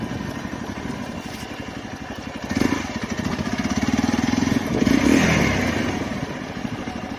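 A Royal Enfield Hunter motorcycle idles with a loud, close, steady thump on a rough off-road track, then revs up twice before settling back to idle.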